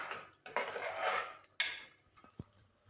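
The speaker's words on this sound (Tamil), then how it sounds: "இப்போ இதை நல்லா கலந்து விட்டுக்கலாம்." A few scraping, clinking strokes of a spoon stirring vegetable kurma in a metal pot, close by, with short pauses between movements.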